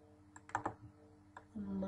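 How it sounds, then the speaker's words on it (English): Mouse clicks while working in Xilinx schematic software, a few sharp close taps in quick succession, followed by a soft low hum. "So then I'll click OK again."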